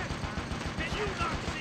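Gunfire in the Western shooter Gun, a quick run of sharp shots, loud and close, with a voice over the firing.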